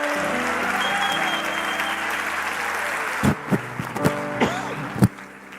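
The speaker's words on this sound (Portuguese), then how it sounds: "Vocês aplaudiram" Church audience bursts into steady applause that fills the room, then thins into scattered, uneven claps and a few sharp slaps before dying away.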